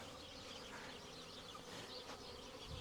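Wasps swarming around beehives under attack, a steady, faint droning buzz of many insects that continues without a break at a distance.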